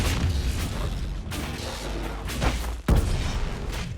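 A barrage of energy spell blasts in Dragon Age Inquisition rumbles as a run of deep booming bursts, with a sharper loud impact near the end, all close and heavy.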